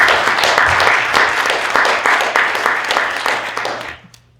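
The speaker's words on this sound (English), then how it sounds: "I think just another round of applause for everything that's been said so far." A round of audience applause at a panel discussion on Caribbean migration, brisk, loud, close clapping for about four seconds before it tapers off and stops.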